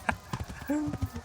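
Horse hooves clip-clop a few times in the medieval video game Kingdom Come Deliverance, close and brief, with a short voiced shout and a whinny-like tone mixed in.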